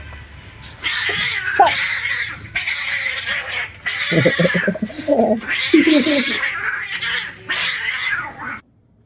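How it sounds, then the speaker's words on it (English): A cat yowls and caterwauls in drawn-out, wavering cries that come in several bursts over a steady background, close and loud, with a brief squeal near the start. "Can they hear us? My cat?"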